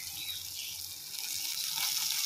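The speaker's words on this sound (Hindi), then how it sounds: "फिर अभी इसमें हम लोग थोड़ा सा पानी ऐड करेंगे दोस्तों।" Water is poured into a clay pot of fried spices for cooking Maggi noodles, a soft, steady hissing splash that swells slightly toward the end.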